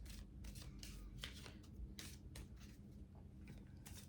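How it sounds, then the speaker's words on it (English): Soft, steady riffling and papery swishing of love oracle cards being shuffled, repeated in quick bursts with a constant low background hum. "shuffle of these love oracle cards."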